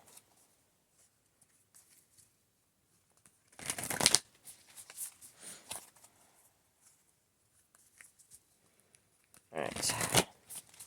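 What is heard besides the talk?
shuffling tarot cards to draw one more card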